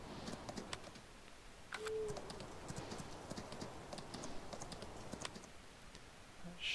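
Horse hooves clip-clop at a steady walking rhythm in the Farm Sim video game, fairly close, with faint bird calls chirping in the background and no voices.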